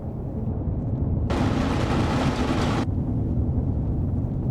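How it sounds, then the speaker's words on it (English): Gunfire in the zombie survival game Project Zomboid: a loud, harsh, sustained blast of noise lasting about a second and a half over a constant low rumble, with no talking. "Yep, that's definitely not friendly gunfire."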